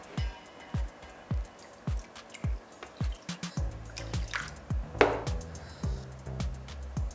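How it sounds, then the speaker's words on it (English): Water is added to a pot of rice being prepared for cooking, giving a run of close, distinct drips and splashes in a fairly steady rhythm, with a brief trickle near the middle. "I just need a little bit more water."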